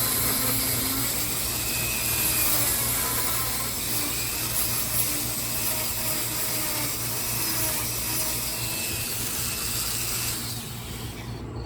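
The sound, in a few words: power carving wood with Kutzall Extreme flame burr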